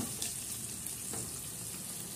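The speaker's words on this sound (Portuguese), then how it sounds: "E fritando a calabresa em rodela." Sliced calabresa sausage fries in a pan with a steady, faint, dense sizzle throughout, no voices over it.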